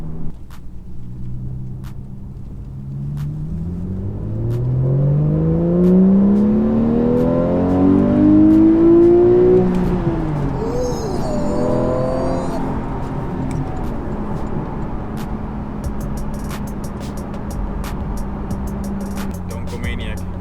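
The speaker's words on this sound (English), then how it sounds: "Just cruising around in a cream colored 911." A cream-colored Porsche 911 50th Anniversary Edition with a 7-speed manual drives along, its engine rumbling steadily from inside the cabin and rising in pitch through a clear acceleration before settling back to a steady cruise drone.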